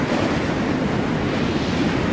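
Hurricane wind roars in a cartoon scene, a steady, loud broadband rush with no pauses, dense and continuous like crashing surf throughout.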